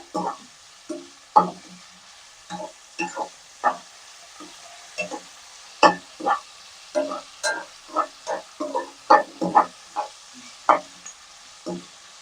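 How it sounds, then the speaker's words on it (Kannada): Onions frying in a pan for a mushroom biryani, stirred with a spoon in regular scraping strokes over a steady soft sizzle, close by and with no talk. "ಈರುಳ್ಳಿ ಕಲರ್ ಚೇಂಜ್ ಆಗೋವರೆಗೂ ಫ್ರೈ ಮಾಡ್ಕೋಬೇಕು."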